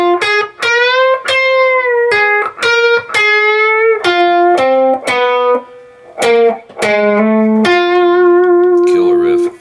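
A lead electric guitar plays a bluesy riff with pre-bent and released notes, slides and quick pull-offs, each phrase clear and sustained, loud and close.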